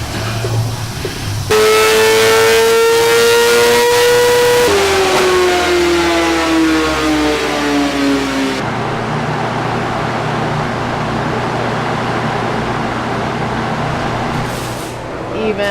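A BMW S1000RR racing motorcycle prepared for a Bonneville record attempt revs loudly in two long rising and falling pulls, then settles into a steady rumbling idle with background noise.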